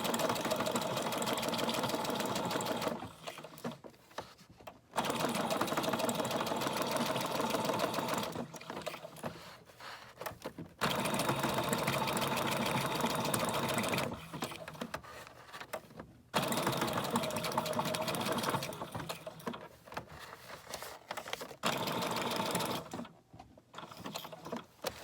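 A sewing machine stitching through coffee-dyed paper for a junk journal pocket, running in several steady whirring bursts of a few seconds each, separated by short pauses.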